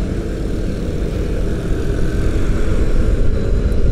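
Maka Cavalry electric motorcycle speeding up on the road, a steady loud low rumble of wind and road noise that swells slightly toward the end, with no voices.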